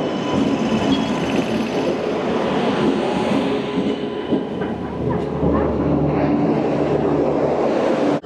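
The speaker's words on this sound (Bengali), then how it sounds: "কোরাপুট জংশনে 4 নম্বর প্ল্যাটফর্মে আছে ট্রেন নাম্বার 18448 জগদলপুর থেকে ভুবনেশ্বর হীরাখণ্ড এক্সপ্রেস WAP7।" Hirakhand Express, train 18448 from Jagdalpur to Bhubaneswar, standing at platform 4 of Koraput Junction in the evening with a WAP7 electric locomotive; a steady, loud rumble of rail noise and station hum fills the whole stretch, with no talk.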